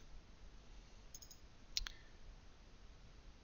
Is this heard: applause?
no